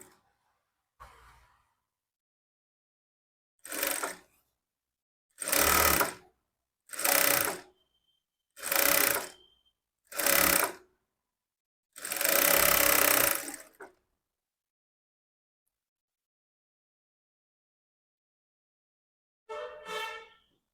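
Sewing machine stitching the edge of a lining blouse through main and lining cloth, running in several short bursts of a second or two each, then one longer run, with pauses between.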